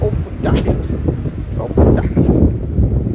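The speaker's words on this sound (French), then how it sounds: "Quand le vent frotte seulement là, ça fait brrr." Gusty wind buffets a dress and the microphone outdoors, a rough, fluttering rumble that swells and eases over a few seconds.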